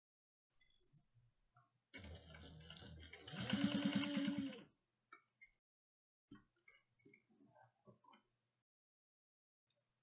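A sewing machine basts a bag handle an eighth of an inch from each edge, running steadily for about three seconds up close, then falling to a few scattered light clicks and taps.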